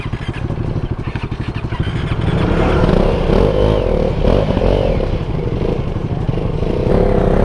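A modified KTM RC 390 motorcycle engine revs loud and close, a rapid pulsing idle climbing into a sustained, rising roar with mechanical clatter, without talk.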